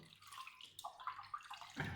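Cattleya orchids in bark pots being drenched with water, a steady splashing and trickling stream running close by, with a heavier gush near the end.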